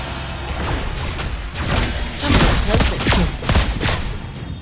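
Lesley's new gun fires in a ranked match of the mobile game Mobile Legends: Bang Bang, giving dense, loud bursts of rapid shots with crashing impacts and whooshes that run continuously over busy game effects.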